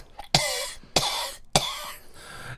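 Three sharp, close coughs in a steady rhythm, each a short harsh burst with a brief throaty tail, followed by a softer fourth sound near the end.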